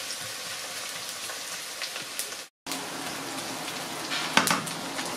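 Steady crackling sizzle of onion frying in a pan, close and fairly quiet, with a brief pause and a few sharper pops toward the end.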